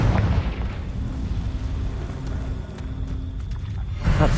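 A Confringo spell explosion in the Hogwarts Legacy video game booms with a heavy low rumble that lingers and fades, then a second burst comes near the end, with no talking.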